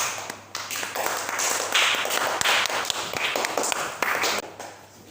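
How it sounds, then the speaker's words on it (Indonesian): A classroom group claps for a student team in a mathematics lesson, a fairly close burst of many hands applauding steadily for several seconds and tapering off at the end. "silakan kita beri tepuk tangan untuk kelompok 1."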